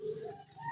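Pigeons in a rooftop loft give a single short, soft, low coo close by in a quiet setting.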